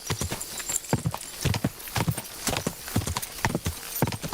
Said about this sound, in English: this horse is so much faster than Pebbles